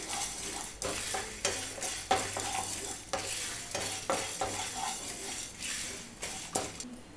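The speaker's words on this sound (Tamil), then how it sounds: "ஸ்லோலே வச்சு நல்ல வாசனை வர வரைக்கும் வறுத்துக்கலாம்." Chillies, coriander seeds, chana dal, cumin and fenugreek are dry roasted in a pan over low heat, with repeated scraping stirs and light rattling of seeds, steady and close throughout.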